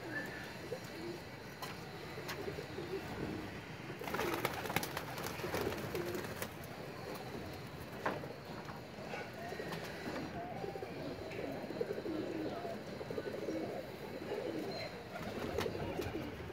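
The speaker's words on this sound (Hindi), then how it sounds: "वो जंगली कबूतर उड़े हैं साथ में" Wild pigeons cooing softly around a net, repeated low coos over a quiet outdoor background, with a few brief flutters and knocks.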